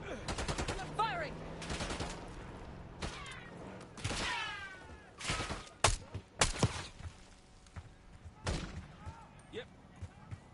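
Sharp bursts of gunfire in the Black Ops 6 campaign, several separate loud cracks and short automatic volleys scattered across the span, mixed with game effects and a voice speaking between shots.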